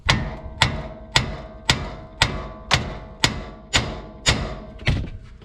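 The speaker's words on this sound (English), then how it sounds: "Since we're going back in with it, we're just going to tap the control arm." A hammer strikes the control arm of a Chevrolet squarebody truck to free the ball joint, ringing metallic blows landing about once every half second, eleven in a row, loud and close.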